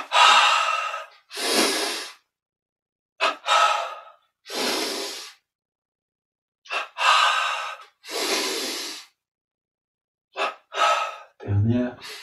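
Double inhalation breathing exercise during a yoga routine: paired sharp in-breaths followed by longer exhales, repeated in separate rounds with silent pauses between them, close and clear.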